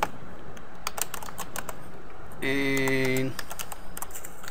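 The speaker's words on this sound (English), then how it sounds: "Type in your username and password," Username and password typed on a computer keyboard, with rapid, close clicking keystrokes continuing throughout while a voice talks over part of it and a brief steady electronic tone sounds midway.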